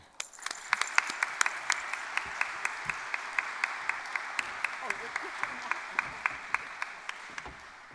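Audience applause at a Franklin & Marshall Athletic Hall of Fame ceremony, filling the room steadily for the full stretch with dense, even clapping and some sharper individual claps.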